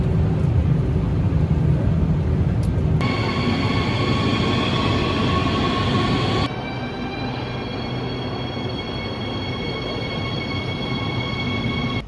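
A train rolls through a station in Germany, a loud steady rumble of wheels on rails with high metallic ringing and squealing tones that shift partway through, continuous and close.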